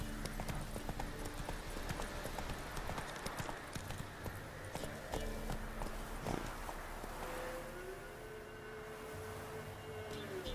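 Hooves of a horse galloping in The Witcher 3 video game make a steady, soft clip-clop rhythm that runs throughout, faint and mixed with low background game sound.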